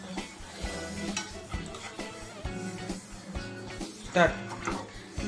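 Sesame seeds fry in a pan over a low flame. A gentle sizzle runs under repeated stirring scrapes and clinks of utensil against pan, with talk heard over it.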